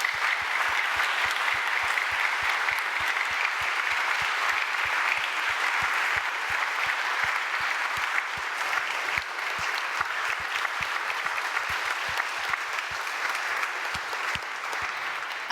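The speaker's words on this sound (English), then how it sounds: "we just give them all a huge round of applause" Sustained applause from a large audience at a general meeting, a dense, even roar of clapping lasting throughout with no letup.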